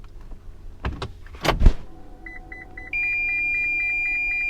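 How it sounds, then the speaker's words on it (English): In a Toyota RAV4 Prime, a couple of clunks and a short whoosh as it shifts into reverse are followed by a repeating pattern of electronic pedestrian-warning beeps, then a steady high tone that holds until the end. "Let's see what it sounds like when I put it in reverse."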